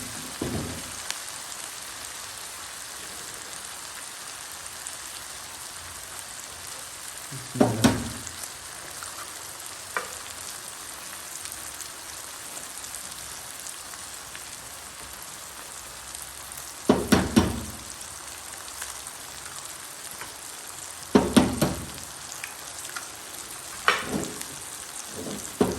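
Eggs fry with chopped onion, green chilies and ginger in a pan, giving a steady close sizzle. Several louder bursts of stirring and spatula scraping cut through it, and no one speaks.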